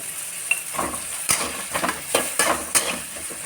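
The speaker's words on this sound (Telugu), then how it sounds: "బాగా వేయించుకోవాలి ఫ్రై అవ్వాలి" Eggs frying in a pan beside ragi sangati, a soft sizzle punctuated by several clinks and scrapes of a spatula, close and fairly quiet, without any talk.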